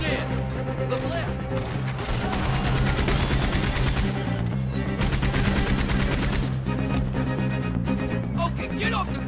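Sustained, loud gunfire from a mounted gun in Red Dead Redemption 2, with dense rapid bursts rolling on for several seconds over heavy background action.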